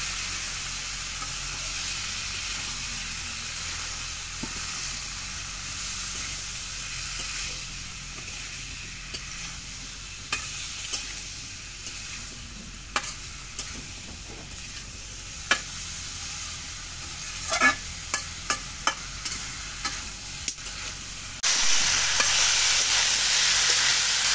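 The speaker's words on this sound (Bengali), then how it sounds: "এখন মশলা কষানি হচ্ছে, এখন কাঁচা কলাটা ঢেলে দিই।" A spice paste fries and is stirred in a pan before raw green banana goes in, a long soft sizzle with scattered clicks and scrapes that swells into a louder, brighter hiss near the end.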